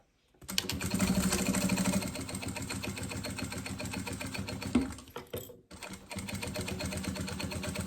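A sewing machine stitches fabric for a two-colour box-style school pencil case, running in a fast, steady mechanical chatter with a brief pause and restart, close and clear without speech.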